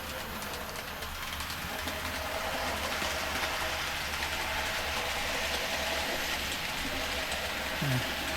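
An N gauge 4F-class model locomotive, still being run in, whirs steadily at slow speed with a faint mechanical buzz and rattle of wheels on track, continuous and moderately quiet.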